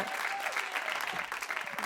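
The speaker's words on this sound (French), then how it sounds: "On peut applaudir Keren." An audience gives steady applause to welcome Keren, the first guest at a French talk event, a continuous patter of many hands at moderate level throughout.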